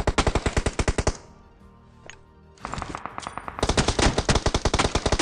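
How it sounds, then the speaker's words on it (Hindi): Rapid bursts of automatic gunfire in the battle-royale game PUBG Mobile, loud and close, with a short lull in the middle before the firing resumes and continues steadily to the end. "वो कंटिन्यूस फायर कर रहा भाई"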